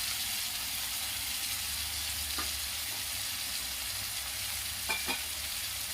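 Ground ginger, garlic, chili and coriander-stem paste frying in a pan for chicken curry, a steady, close hiss of sizzling oil with a couple of faint clinks of a spoon.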